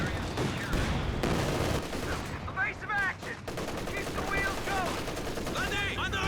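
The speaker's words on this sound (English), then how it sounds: "Some M83 cluster bombs coming down on this machine gun now." M83 cluster bombs from Company of Heroes 2 burst in dense overlapping bangs and rattling gunfire, loud and continuous, with whistling streaks and brief distant voices mixed in.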